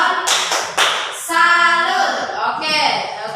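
A class of students claps a short patterned rhythm together in unison, the sharp claps interleaved with children chanting along in a group.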